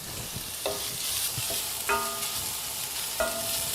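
Steady sizzling of onions frying in a pan, with a few scraping stirs of a spoon against the metal, close and moderately quiet.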